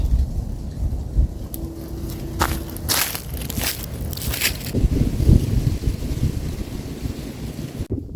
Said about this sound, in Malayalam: മരച്ചില്ലയിലെ കാറ്റ് വന്ന് മേലെ അടിക്കുന്ന സമയത്ത് ഒരു സൗണ്ട് കേൾക്കാനുണ്ട്